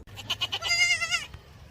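A goat that has just given birth for the first time bleats together with its newborn kid: a run of short, close bleats followed by one long, wavering cry, with no talking.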